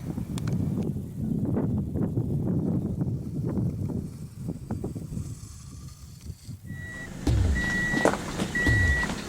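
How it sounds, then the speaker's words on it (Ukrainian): A car drives along the central street of a village deep in the forest, with a steady engine and road rumble, bursts of crunching and rattling early on, then a lower, heavier drone with faint tonal beeps. "Їдемо по центральній вулиці"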